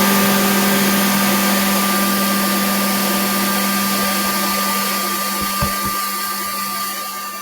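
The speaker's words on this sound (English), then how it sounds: "we always want to turn the vacuum on." A CNC router's vacuum table runs as a loud, steady motor whine and hum with constant tonal drones. It holds level throughout with no talk, then eases slightly near the end.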